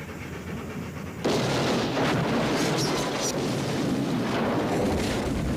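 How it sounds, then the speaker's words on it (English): A large-scale miniature car from Back to the Future, driven off a cliff, explodes with a sudden loud boom that gives way to a sustained roaring rumble and crackle of debris. "This is a large-scale miniature for Back to the Future. Literally drove it off a cliff and blew it up."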